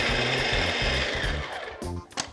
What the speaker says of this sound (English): Place the bread into a food processor, tear it up into pieces, and this is where you let the machine do the magic.